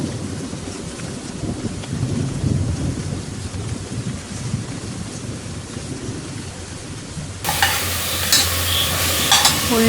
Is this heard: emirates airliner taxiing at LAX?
no